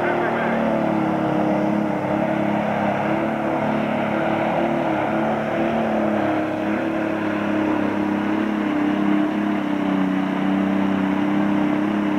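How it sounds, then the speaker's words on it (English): A loud, sustained engine roar with rising harmonic pitch, a heavily boosted modified John Deere pulling tractor revving hard and holding high revs at a 2001 tractor pull, with faint crowd or announcer noise beneath. "it's been a long time since we heard a tractor come up that high and build the boost that long"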